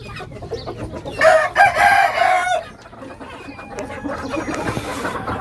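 Caged hens, including a Thai breed, cluck loudly nearby while a rooster gives a strong crow partway through, with quieter farmyard clucking continuing after it.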